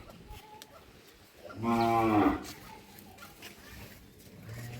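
A crossbred milk cow with an eight-day-old bull calf lets out one loud, clear moo lasting under a second in a quiet village yard, with faint background noise around it.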